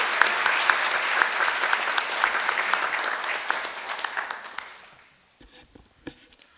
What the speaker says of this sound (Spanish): Un aplauso para Luis Raúl, que nos estará viendo.